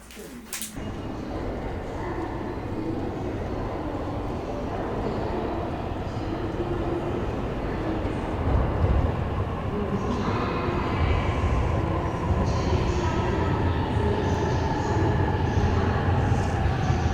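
A train arrives at Ueno station in Tokyo with a steady, loud rumble and rolling noise that grows heavier and denser partway through as it pulls in, after a brief sharp knock at the start.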